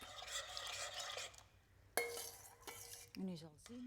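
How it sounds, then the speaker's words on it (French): Oyster mushroom juice and sour cream being stirred together, a faint scraping whirl of a utensil against a bowl, then a sharp clink and brief knocks, with a voice briefly speaking at the end. "Mélangez bien le jus avec la crème surette et ajoutez le tout dans la soupe."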